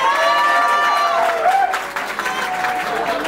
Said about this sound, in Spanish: Aplausos para Victoria Fantini.